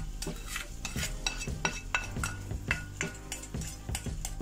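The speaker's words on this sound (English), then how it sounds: "So into the rice now we add our uh, aromats and our ghee." A spoon scrapes and clinks against a pot while aromatics and ghee are stirred into cooked rice, making a steady run of soft metallic taps and scrapes, close and fairly quiet.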